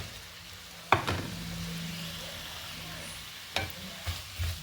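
Chopped tomato and onion are stirred in a pan for kadai chicken, with a steady low sizzle and a few sharp spoon scrapes against the metal, close and alone.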